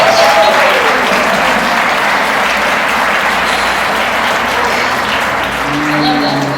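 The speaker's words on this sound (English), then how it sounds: "Give Theo a big round of applause." Loud, dense applause from a large crowd for a performer named Theo, a continuous roar of clapping with some cheering mixed in, sustained without pause.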